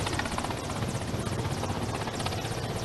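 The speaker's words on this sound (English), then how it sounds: "the helicopter is hanging midway" A helicopter hovers over a packed stadium at an independence anniversary celebration, its steady rotor chop and engine drone filling the whole stretch at moderate loudness with no talk.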